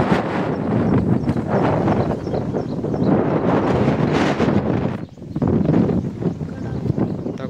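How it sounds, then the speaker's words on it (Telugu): Strong wind buffets the microphone on a green hilltop, a loud continuous roar with gusting surges and a brief lull near the end. "గాలి కూడా విపరీతంగా ఉంది."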